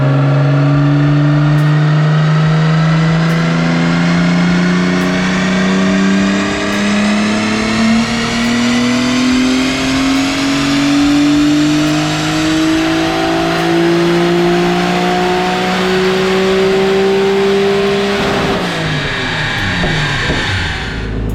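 Turbocharged Nissan Stagea engine revving on a Mustang dyno at 22 PSI, a loud, steady, rising wail climbing through the revs for about eighteen seconds before it abruptly cuts and drops off near the end.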